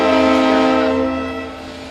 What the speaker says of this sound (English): there they go, the horn and the train horn at the same time